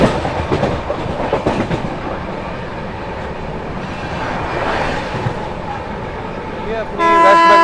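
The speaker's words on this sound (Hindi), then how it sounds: "अपनी वेस्ट बंगाल संपर्क क्रांति स्किप कर रही है डेरी ऑन सोन" The 12329 West Bengal Sampark Kranti express rushes past at speed, a loud, close roar of clattering wheels on rails, ending in a sharp horn toot as the train runs through.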